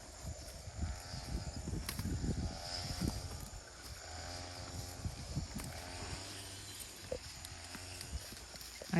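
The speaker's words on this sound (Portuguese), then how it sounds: "Aí o Rian em sua montaria." Hooves of a mare clip-clop as she is ridden on a Brazilian property where grass is being cut for horses, the steps fairly close and uneven amid outdoor background noise.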